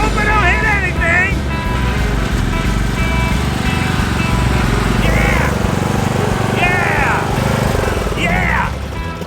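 A riding lawn mower's engine drones loud and close for the whole stretch, a steady rough rumble with excited shouting voices over it.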